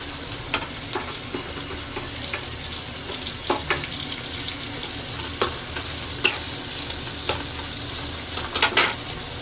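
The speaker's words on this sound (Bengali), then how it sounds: "মানে পেঁয়াজটা ভাজা হয়ে গেছে" Onions with cinnamon and bay leaves fry in a pan in a steady close sizzle, broken by repeated sharp clicks and scrapes of a spoon stirring against the pan, with no voices.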